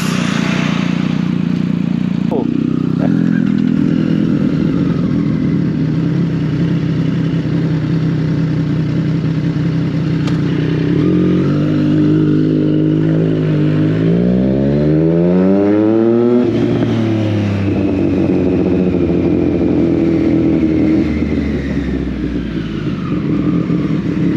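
Triumph Speed Triple motorcycle engine on a ride, a steady loud drone with rising and falling revs as it accelerates and shifts, wind rush throughout.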